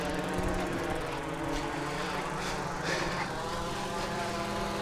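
An AirDog II follow-me drone descends from overhead outdoors: a steady propeller buzz and whine holds level throughout, mixed with wind rush and faint engine-like rumble.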